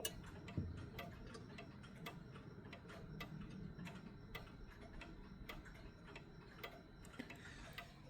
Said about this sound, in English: the tick-tock is not going to sound even